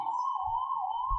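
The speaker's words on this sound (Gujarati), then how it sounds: "જો આ સાયરન વાગે છે ને એટલે જ અત્યારે નીકળી ગાડી." An emergency vehicle siren sounds outside, a steady, continuous wail holding one pitch for the whole stretch, with a low rumble beneath and no talking.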